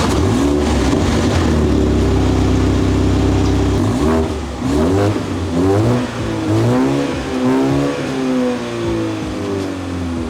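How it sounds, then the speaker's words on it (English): A MINI Countryman S engine fires up loud and sporty, holding a strong steady idle before a run of sharp, rising revs that come in repeated bursts, close and with no talk. "the way it starts up, right, the sound is actually much louder as compared to the X1 or the 3 series"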